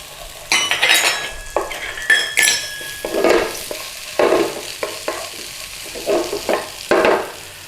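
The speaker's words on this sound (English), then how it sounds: "Skizzle sizzle. In with our kale stalks." Kale stalks hit a hot frying pan for sesame chicken satay noodles, giving a close, steady sizzle broken by repeated stirring scrapes and light clinks of a utensil against the pan.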